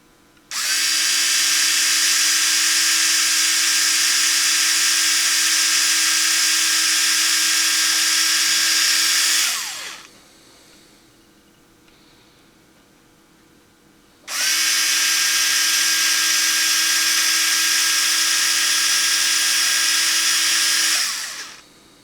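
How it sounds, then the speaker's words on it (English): A small Proxxon MIS-1 power drill with a 0.016-inch bit whines loudly at a steady high pitch for several seconds, pauses briefly, then runs again at the same pitch. "even with this 16 thousandths drill bit"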